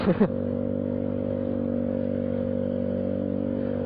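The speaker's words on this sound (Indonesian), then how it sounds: "gue juga ganti knalpot R9 Misano, dan beginilah suaranya" A Honda BeAT Street scooter's aftermarket R9 Misano exhaust rumbles with a deep, steady, bassy idle close by after a brief clatter at the start.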